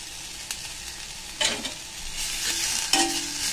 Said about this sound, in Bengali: কড়াতে নাড়লে অটোমেটিক একটু ভাজা ভাজা হয়ে যাবে